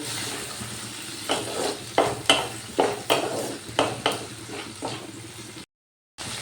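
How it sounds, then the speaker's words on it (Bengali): Chopped tomato and ginger paste cook in hot oil, with a soft steady sizzle under a series of distinct stirring scrapes, roughly one every half second, before the sound drops out abruptly near the end. "টমেটো আর আদা বাটাটা তো ভালো করে কষিয়ে নিয়েছি"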